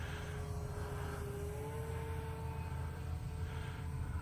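An airborne radio-controlled model airplane engine runs at reduced quarter throttle, a steady buzzing drone with a gently wavering pitch, heard from a moderate distance over low background rumble, without any talking.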